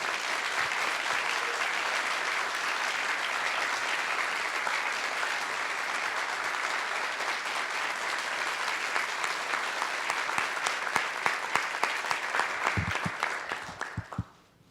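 An audience at a digital economy forum applauds to welcome a presidential candidate, sustained dense clapping from a large crowd that holds steady, then thins into a few louder individual claps before fading out.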